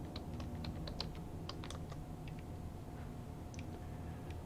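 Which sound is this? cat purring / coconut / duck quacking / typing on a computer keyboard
typing on a computer keyboard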